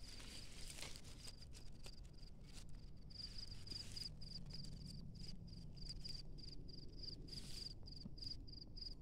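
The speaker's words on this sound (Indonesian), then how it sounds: "tapi ini jangkrik seliring ya." Seliring cricket chirping steadily in a continuous high trill, with pulsing repetitions throughout amid faint rustling and low background noise outdoors.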